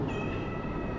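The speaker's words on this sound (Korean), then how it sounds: "어째 막 야옹야옹 걸어서 저를 막 따라다니길래" A cat on a street in Jakarta gives a drawn-out meow, close by, over a steady background hum.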